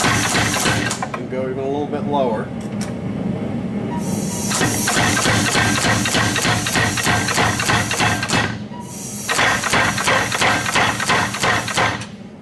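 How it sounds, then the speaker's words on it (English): A Big Blu dual-valve air power hammer pounds in a fast, steady hammering rhythm that quickens as its stroke is shortened, loud and close, with someone talking over it at the start. "and you'll hear that hammer speed up a little bit"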